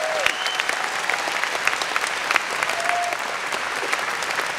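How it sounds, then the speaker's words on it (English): An audience at Star Wars Celebration Europe 2016 applauds BB-8 during a panel, sustained loud clapping with scattered cheers and whistles throughout. "give him another round of applause"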